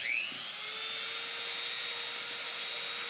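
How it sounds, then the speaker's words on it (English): A Dremel rotary tool trims a door hinge pin spring on a 1972 Chevy Monte Carlo, giving a loud, steady high-pitched whine that holds for several seconds after a brief rising start. "So I got the Dremel and a hose nearby just in case I burn her down."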